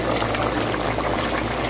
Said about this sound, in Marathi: याच्यामध्ये चांगलं चिकन शिजू द्यायचं